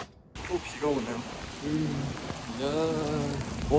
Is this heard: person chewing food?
no